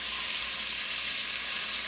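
Steady, even sizzling hiss of bacon frying in a pan, continuous and fairly close, with no talking.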